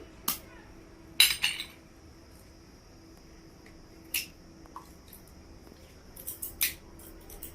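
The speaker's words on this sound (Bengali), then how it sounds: "আমি একে একে সব ডিমগুলো ফাটিয়ে দিচ্ছি" Eggs cracked one by one into a dish for egg vapa, heard as a few sharp, isolated taps and cracks separated by quiet pauses, with small clicks near the end.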